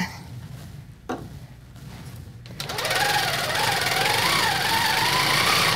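Sewing machine stitching a quilt starts up after a few sharp clicks and handling noises, then runs as a close, steady whirring hum with a slightly wavering pitch until the end.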